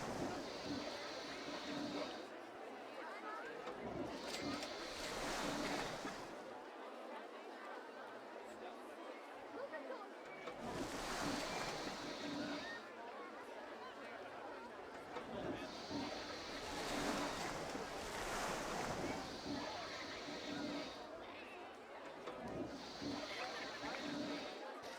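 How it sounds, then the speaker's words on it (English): Log flume boats splashing down in the RollerCoaster Tycoon park sim, rushing watery bursts recurring every few seconds over steady crowd chatter and ambient park noise. "Wind around, wind up again for a second big splash."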